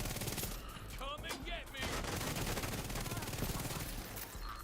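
Rapid shotgun blasts and surrounding gunfire in the video game The Division 2, loud bursts coming in quick clusters with brief pauses between volleys.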